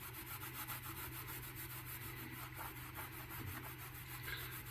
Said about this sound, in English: and then attempt to give it a little polish